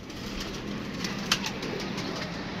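Pigeons coo softly in a fairly quiet outdoor setting, their calls faint and low against steady background noise, with one brief sharper sound near the middle.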